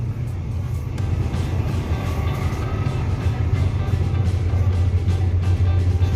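A steady low engine drone and road rumble fill the interior of a Mercedes-Benz Travego coach bus while driving at night, constant and fairly loud, with no talking.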